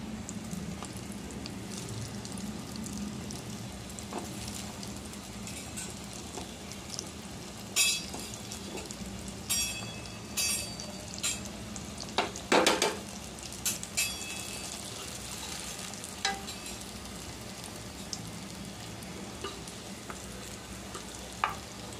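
Batter-coated bottle gourd slices fry in a pan with a steady, moderate sizzle, broken by a few sharper spatters and scraping clatters of utensils near the middle.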